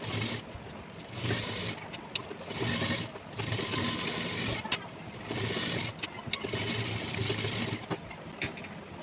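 A sewing machine runs in steady bursts while stitching a V-neck smock dress, its close mechanical whir broken by a few short pauses and light clicks, with no talking.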